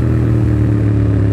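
Yamaha FZ07 motorcycle with a full aftermarket exhaust, a loud, close, steady low drone of the engine with a deep throaty tone, no voices.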